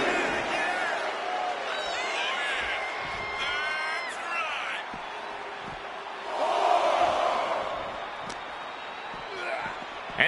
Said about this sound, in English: Look at Gunther taking in all the energy from the crowd